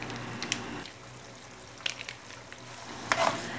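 Ground pork, potatoes and carrots cook in a pan as tomato sauce goes in, giving a quiet steady sizzle with a few soft clinks and stirring scrapes, louder near the end.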